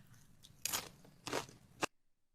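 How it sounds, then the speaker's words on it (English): A crunchy Doritos chip is chewed close up in about three sharp, loud crunches spaced through a quiet room, then silence. "I'm going to have to chew it now. Now everybody's going to sit and listen to it"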